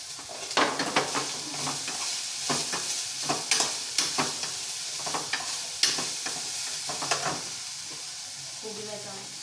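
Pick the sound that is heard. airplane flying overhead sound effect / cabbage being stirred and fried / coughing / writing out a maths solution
cabbage being stirred and fried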